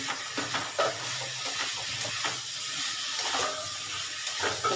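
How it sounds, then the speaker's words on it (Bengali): Steady hissing sizzle of turmeric-coated prawns frying in hot oil, with occasional clinks and scraping of a utensil in the pan. "একটা তেলের মধ্যে ভালো করে কষিয়ে নিচ্ছি"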